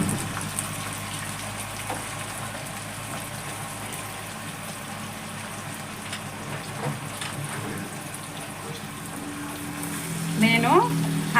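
Country chicken pieces fry in a pan for a curry, giving a steady sizzle throughout with faint talk in the background and a brief clatter near the end.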